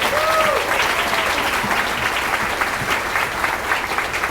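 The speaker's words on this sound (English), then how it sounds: "So give them a round of applause" A dinner audience at a chamber of commerce awards dinner gives the staff a round of applause. The clapping is loud and dense and runs throughout, with a brief whistle near the start and a murmur of voices underneath.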